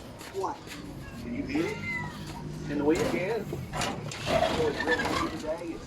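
Several stray cats meow in drawn-out, rising and falling calls around their broken cat house, the cries close and fairly clear over a low background murmur.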